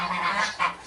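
A Pekin duck on a farm gives a short nasal honking call, close and fairly clear, two quick calls in under a second.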